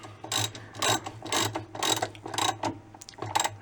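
Repeated clicking bursts of a ratchet driving a 7/16 socket on two 6-inch extensions to turn a bolt on a 1989 Whirlpool washer, about seven quick strokes in a steady rhythm, close and alone.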